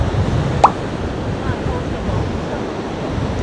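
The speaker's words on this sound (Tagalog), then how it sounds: "Lakas ng hangin." Steady, heavy wind buffeting the microphone near the surf at Sakurai Futamigaura beach, Japan, a continuous rough rumble with one brief sharp splash early on.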